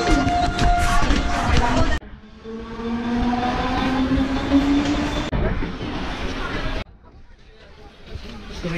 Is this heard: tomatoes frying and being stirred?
no